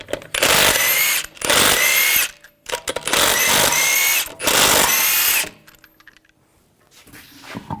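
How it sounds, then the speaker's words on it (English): A power impact tool spins off lug nuts with a 22mm socket on the front wheel of a 2013-2015 Chevrolet Malibu, loud close bursts of whirring and rattling in four long runs separated by short pauses, then quieter clinks. "We're going to use a 22mm socket. Take the lug nuts off."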